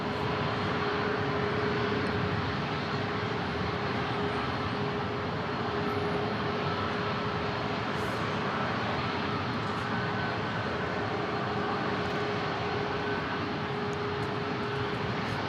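An Alaska Airlines jet arriving from Portland at San Diego International Airport sends a continuous broad roar with a faint steady whine across the whole stretch, holding at a fairly even level with no talking.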